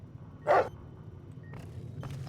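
A dog in Fallout: New Vegas gives one sharp, loud bark up close, followed by a couple of fainter short yips over a low game background hum.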